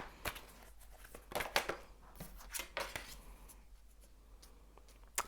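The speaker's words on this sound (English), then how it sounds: "I'm going to shuffle a little bit more." Tarot cards being shuffled by hand, a run of quiet, sharp papery riffles and flicks in irregular bursts, close and soft with no talking.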